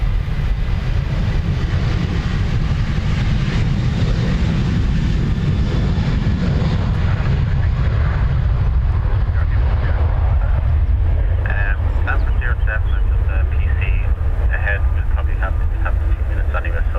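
A Ryanair airliner departs Dublin Airport, a loud, sustained engine roar with heavy low rumble that gradually thins and recedes, joined later by faint radio chatter.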